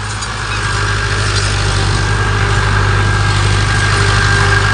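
A tractor engine runs steadily in a waterlogged farm field, a loud continuous low idling rumble with no voices throughout.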